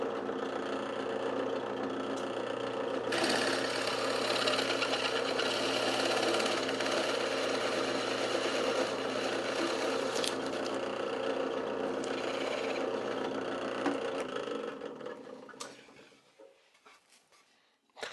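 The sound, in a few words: saw cutting bevel on wooden bench skirt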